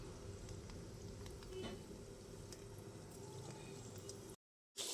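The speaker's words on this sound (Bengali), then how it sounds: "গ্যাসটা একেবারে লোতে রেখে আমার দই চপগুলোকে ভাজতে হবে" Doi chop sweets fry gently in oil over low heat, giving a faint, even sizzle with soft crackles throughout before a brief dropout near the end.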